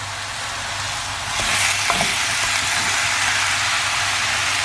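Pumpkin pieces cook in a pan with garlic, giving a steady, close sizzle and frying hiss throughout, with a few soft stirring scrapes partway through.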